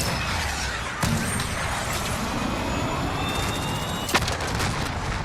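In the video game Call of Duty Modern Warfare, a missile strike booms with sharp blasts and rumbling impacts over continuous battlefield noise, with distinct hits near one and four seconds.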